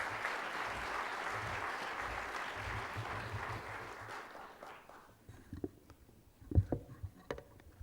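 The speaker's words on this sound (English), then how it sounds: "I think we owe him an applause." Conference audience applauds a climate-change speaker, steady clapping from a crowd for about four seconds that fades out, followed by quieter room noise and a few thumps and handling sounds.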